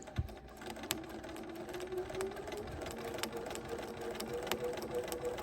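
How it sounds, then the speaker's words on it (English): A sewing machine stitches a baby quilt next to a guide tape, a quiet steady motor hum with faint rhythmic needle ticks, close by and with no voices. "And then I'm going to go ahead and sew next to the tape."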